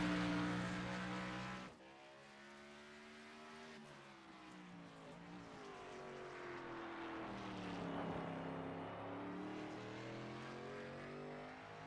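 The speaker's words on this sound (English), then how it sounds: "Currently have about 6 cars out making their lap." Race cars lap the Road America course in an LEC NextGen Series event, several engines droning and shifting pitch as they pass at a distance, a steady layered whine rising and fading without any talk.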